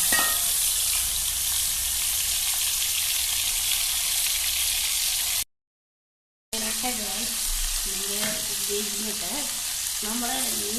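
Mackerel frying in hot coconut oil, a dense, continuous sizzle close by that cuts out for about a second before resuming with some faint clattering and tonal sounds over the frying.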